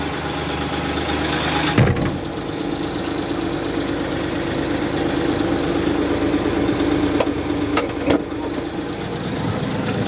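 A tractor engine runs at low idle with its PTO engaged, a steady, loud, even rumble with a couple of sharp clanks partway through and no voices.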